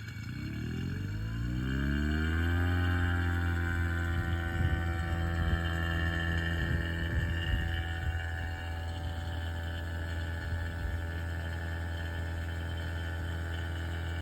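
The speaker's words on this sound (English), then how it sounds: "Let's go ahead and start pulling the vacuum." A vacuum pump pulls down the refrigerant line on a ceiling-mount fan coil, starting with a rising whine as it spins up and then settling into a steady, loud mechanical drone with a constant hum that runs alone throughout.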